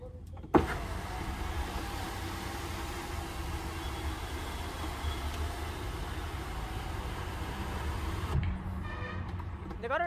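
A 2024 Tata Harrier's panoramic sunroof motor runs with a steady electric whir for about eight seconds, starting and stopping with sharp clicks, heard close up from inside the cabin.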